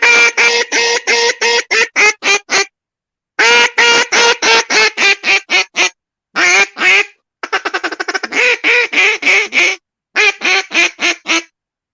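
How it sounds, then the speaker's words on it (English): Wooden wedge duck call blown in rapid quacking runs, loud and close, with several bursts of quacks separated by short pauses and a fast chattering feed-call stretch in the middle. "Could you hear that duck call?"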